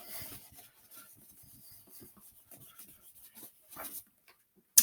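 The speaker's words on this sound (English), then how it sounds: "I'm going to erase this off." An eraser wipes written letters off a teaching board in a series of short, faint rubbing strokes close by, with a longer, louder swipe near the end, then a sharp click; no one speaks.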